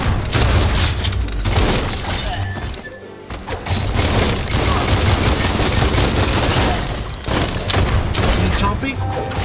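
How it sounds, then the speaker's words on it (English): Heavy gunfire in the mobile game Gold & Goblin, loud rapid bursts and crashing impacts that run almost continuously, with one brief lull partway through. "Bullets everywhere."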